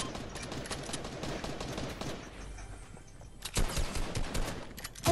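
Gunfire in Fortnite, rapid bursts of automatic shots in dense volleys, a quieter stretch midway, then louder bursts near the end, with no talk over it.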